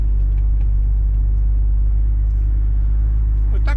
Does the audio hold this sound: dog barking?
no